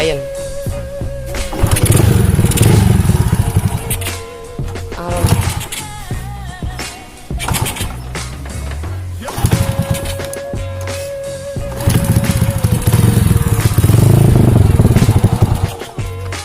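A restored Honda C70 motorcycle's small engine runs and revs up and down nearby, with people talking over the noise.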